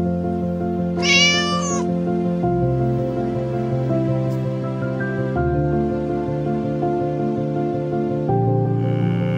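A domestic cat meows clearly over a steady melodic music track, one short call standing out near the start and a faint, brief one later, with no talking.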